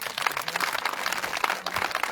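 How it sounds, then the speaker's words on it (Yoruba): A church congregation applauds with dense, continuous clapping from many hands, fairly loud and steady across the whole short stretch, with no talking over it. "Àtẹ́wọ́ ńlá fún Jésù."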